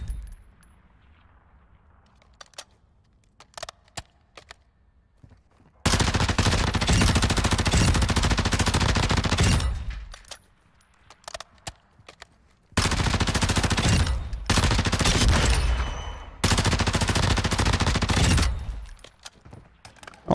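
Loud, sustained automatic gunfire from a weapon in the shooter game DMZ, coming in three long bursts of several seconds each with quiet gaps between them.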